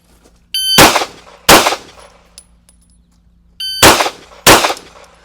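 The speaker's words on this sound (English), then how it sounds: "reacting to the beep, I'm going to fire not one round, but two" Two pairs of sharp pistol shots at a shooting class, each pair fired right after a short electronic shot-timer beep, loud and close with a brief ringing decay.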